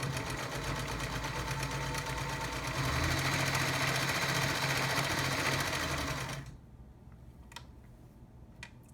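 A vintage Singer Stylist 513 sewing machine stitches with a steady mechanical whir that speeds up and grows louder partway through, then stops, leaving a few faint clicks.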